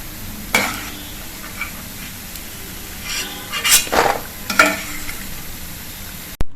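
Semolina mathri frying in oil over a low flame, with a soft steady sizzle broken by a few clinks and scrapes of a utensil against the pan, fairly close and without talk.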